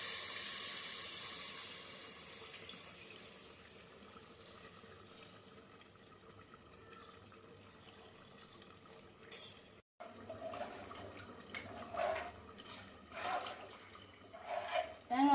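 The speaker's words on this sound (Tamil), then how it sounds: "தேங்காய் பால் ஊற்றிக்கலாம்." Coconut milk poured into a pan for chicken thokku, a steady liquid pour that fades over several seconds, followed by a sharp break and then spoon scraping and stirring sounds close by.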